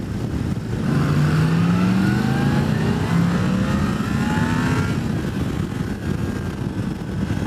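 A 2018 Yamaha MT-10 motorcycle accelerates hard on a demo ride, its engine note climbing in rising sweeps and holding a loud, close, steady roar, then easing slightly.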